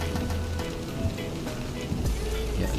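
Steady rain drums on a car moving along a toll road, a dense broadband hiss mixed with low road rumble that continues throughout.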